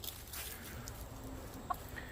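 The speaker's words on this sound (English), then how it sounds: "And these chickens are sitting here taunting her." Chickens cluck quietly in the background amid a faint, steady outdoor hiss, with a brief sharper cluck near the end.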